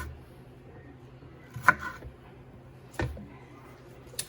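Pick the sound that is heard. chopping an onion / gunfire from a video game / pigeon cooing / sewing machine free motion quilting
chopping an onion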